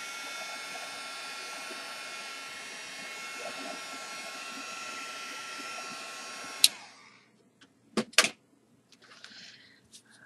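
A hair dryer roars steadily for nearly seven seconds, drying a wet art journal page, then clicks off, followed by a few sharp handling knocks and faint rustling.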